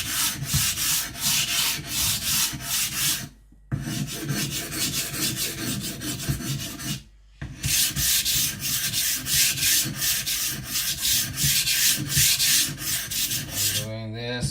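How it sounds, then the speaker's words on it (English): A kiridashi knife is pushed firmly across a whetstone in quick, rhythmic rasping strokes, close and loud, broken by two brief pauses; no one speaks. "I'm just gonna put some pressure on to dig into the stone."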